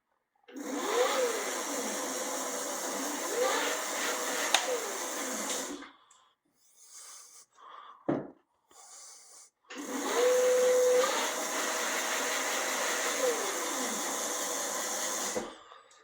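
An Xp4 electric bike motor whirs up in two loud runs of about five seconds each, spinning up and down on the twist and thumb throttles, with a short pause and faint handling noises between them.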